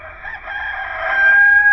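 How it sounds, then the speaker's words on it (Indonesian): A rooster crows once, a loud, close, sustained call that rises and holds to the end, with nothing else behind it. "dan sejurus selepas itu ayam berkokok"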